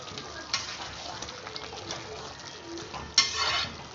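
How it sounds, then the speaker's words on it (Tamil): A gram flour and water mixture is stirred into potato masala in a pan, producing wet, close stirring and gushing sounds with a few sharper splashes and a light sizzle. "நல்லா கலந்து விட்டுக்குங்க."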